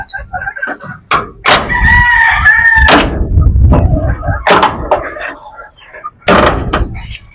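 A door bangs and rattles as it is opened into a chicken pen, several sharp knocks and slams while a rooster crows loudly nearby and hens cluck in the background.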